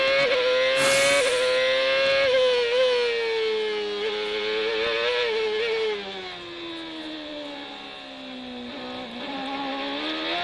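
Kenny Brack's CART race car at full song during Saturday qualifying on the Vancouver street circuit in 2002, heard from onboard: a loud, continuous high-revving engine whose pitch rises and dips through gear changes and corners, with no talk.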